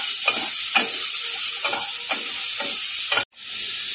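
Vegetables for a Bengali bitter gourd chorchori fry in a pan with a loud continuous sizzle, broken by a steady run of spatula scrapes and stirs about every half second, then a sudden brief cut.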